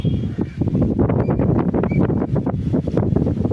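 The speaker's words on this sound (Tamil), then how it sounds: "காற்று எக்கச்சக்கமாக அடிக்குது, சீட்டு அடிக்குது காற்று." Strong wind gusts through a rose garden, roaring and buffeting the microphone loudly and continuously.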